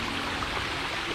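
A waterfall swollen after a night of heavy rain pours in a steady, dense rushing roar, loud and continuous with no pauses.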